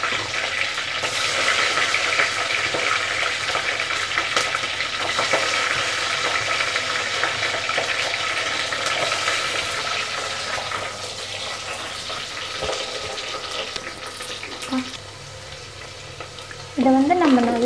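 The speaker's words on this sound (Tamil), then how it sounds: "இதை வந்து நம்ம நல்லா இப்போது வதக்கி விட்டுக்கலாம்." Ingredients sautéing in a pan for salmon fish kulambu, a steady close sizzle with stirring scrapes that eases off late, ending with a brief clatter.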